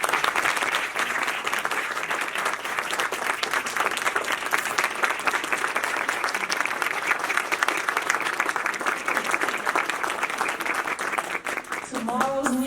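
Sustained applause from a large audience at a county government Women's History Month celebration, dense and steady clapping that continues for several seconds before a voice begins speaking at the end.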